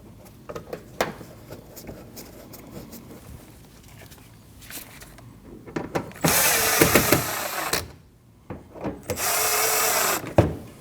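Power driver running screws into a mud flap on a Nissan NV2500 van, with short whirring bursts among clicks and handling noise, then two longer loud spins, close and alone.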